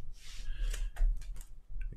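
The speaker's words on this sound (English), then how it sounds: "See my sloppy shuffling." Brief, close riffling and soft rubbing of playing cards being shuffled by hand during magic card manipulation practice, a few quick bursts of papery flutter with no talking.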